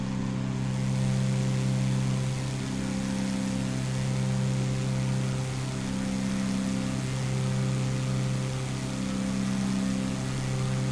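Aircraft engine in a flight simulator game on a flight from Aden, Yemen to Jeddah, Saudi Arabia: a loud, steady droning hum with low tonal layers and a faintly pulsing rhythm, continuous and alone.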